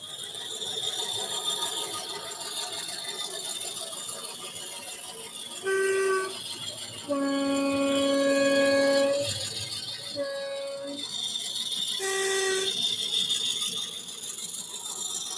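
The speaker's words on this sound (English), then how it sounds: "Here comes the Class 50," British Rail Class 50 diesel locomotive passing with a steady mechanical roar, rising horn-like tones sounding in bursts, loud and close throughout without speech.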